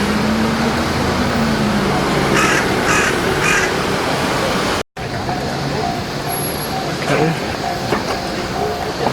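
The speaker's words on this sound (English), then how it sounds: "Train is coming." A train rumbles past on a rail line in Japan, a steady broad roar filling the scene with crows cawing nearby and faint traffic in the background.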